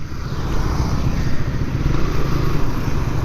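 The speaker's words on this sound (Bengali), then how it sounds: "আজকে দেখেন আমাদের সাথে কতগুলো বাইক আছে" A large group of motorcycles, around twenty bikes, rides along a road in Bangladesh, giving a loud, close, steady engine rumble with slight pulsing throughout.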